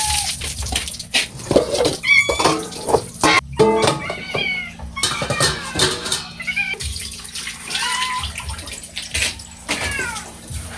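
Several hungry pet cats meow and yowl repeatedly while waiting to be fed, their cries overlapping close by over the sound of running tap water and kitchen clatter.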